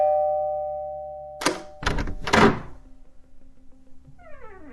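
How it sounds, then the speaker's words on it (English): A doorbell rings with a sustained electronic chime. Then come several loud thuds and a rattle as a door is opened almost right away. Faint creaking and scraping follow. "When I rang the doorbell, the door opened almost immediately."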